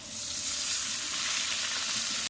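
Fried onions in a cooking pan sizzle loudly and steadily after a splash of water is added, a harsh continuous hiss that cuts off abruptly at the end.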